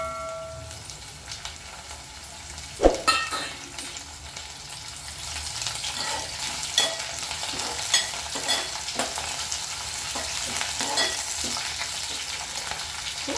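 Sliced eggplants fry steadily in a pan with salt and chili powder for a stuffed eggplant curry, giving a continuous sizzle with repeated stirring scrapes and clinks and a sharper knock near the start.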